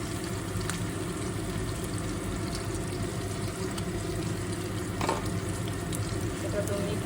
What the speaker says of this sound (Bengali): পেঁয়াজটা একটু নরম হয়ে এসছে, এখন দেব হচ্ছে আদা রসুনের পেস্ট।